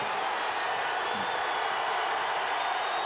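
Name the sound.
basketball arena crowd cheering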